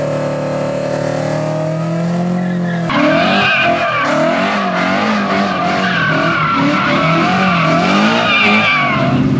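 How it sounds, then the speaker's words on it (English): A car doing a burnout: an engine idles briefly, then revs hard as the tires squeal loudly and continuously, with the engine note rising and falling under the screech. "do you do burnouts?"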